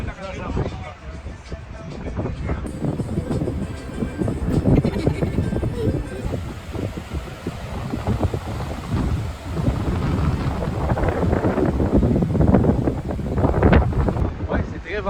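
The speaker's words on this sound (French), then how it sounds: "Venteux aujourd'hui" Strong gusty wind in Cuba buffets the microphone throughout, with rumbling blasts rising and falling over the whole stretch.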